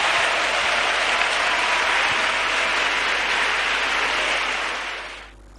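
An audience at a church gathering applauds steadily, a dense, even wash of clapping that holds at full strength for about five seconds and then tapers away quickly.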